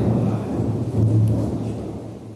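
Steady rain from a thunderstorm that has soaked open-air paddy procurement centres, heard as a continuous broadband downpour with a deep low rumble running through the whole stretch, loud and unbroken.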